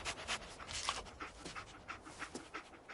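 Dogmeat, the canine companion in Fallout 4, pants steadily in quick rhythmic breaths, close and fairly soft, with no talking.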